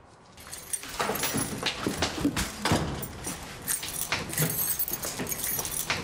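Metal keys jangle and clink close by in a series of bright, irregular rattles lasting several seconds, with no speech.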